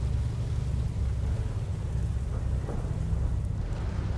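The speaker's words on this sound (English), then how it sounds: "with thunderclaps and heavy rain in the background" Heavy rain pours in a dense, constant wash with a deep rumble of thunder rolling underneath, steady and unbroken throughout.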